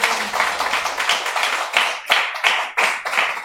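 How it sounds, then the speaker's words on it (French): A church congregation claps together during a worship service, a dense crackle of many hands that settles into a few sharp unison beats near the end, loud and close. "Est-ce qu'on peut applaudir le Seigneur?"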